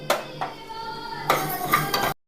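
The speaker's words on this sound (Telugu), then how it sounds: "ధనియాలు మంచిగా దోరగా వేయించుకోవాలి." Whole coriander seeds dry-roasting in a pot on a stove, with a few sharp metallic clinks and scrapes of a utensil against the vessel, close and fairly loud, no voices.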